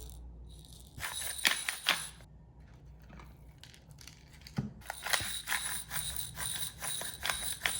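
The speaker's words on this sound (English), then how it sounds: "Next, grind the pepper." A pepper mill grinds pepper for seasoning steak, giving a dry, ratcheting crunch in short bursts: a few twists near the start, a pause, then a longer run of steady grinding, close and fairly quiet.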